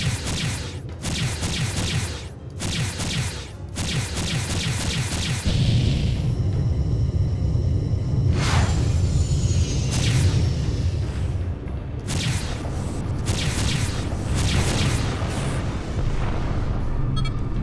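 Rockets launching and exploding in the space combat game Freespace 2: repeated whooshing launches and sharp bursts over a heavy, continuous rumbling roar, loud and close throughout, with clusters of impacts near the start and end.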